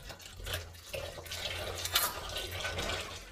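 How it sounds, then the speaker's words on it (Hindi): Running water from a tap splashes steadily while dishes are washed at a sink in a home, a quiet, continuous close-up wash without voices. "बर्तन धो रही है"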